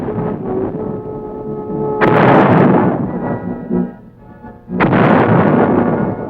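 Field artillery fires at Fort Sill, with two massive booming blasts a few seconds apart, each a sharp onset followed by a long rumbling roar that fades over a low background hum.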